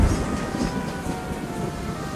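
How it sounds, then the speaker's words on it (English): A steam engine pulls a goods train down the line in a storm, giving a steady, continuous rumbling chug with heavy rain mixed in, moderately loud throughout and with no voices. "Donald was puffing down the line with a goods train."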